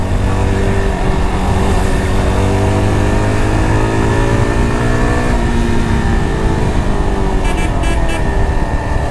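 A Yezdi Adventure motorcycle engine revs hard as the rider accelerates through the gears past 6000 rpm, a loud continuous close-up roar with rising pitch sweeps and steady wind noise, no voices.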